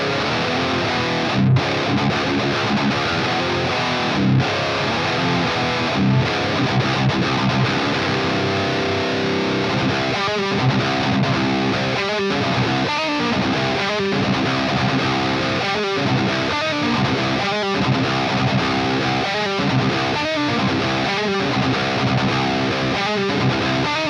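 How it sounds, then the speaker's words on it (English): Distorted electric guitar chugs through a tight, fast rhythm part with a heavy, saturated tone, loud and continuous, with clipped palm-muted hits and brief stops, played alone without voices. "because the distortion sounds really good on this, I want to see, will this work for rhythms?"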